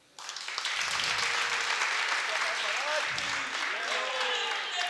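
Audience at a Jain religious ceremony with abhishek and shantidhara rituals breaks into sustained, loud applause that fills the whole clip, with faint voices and whistle-like tones mixed in.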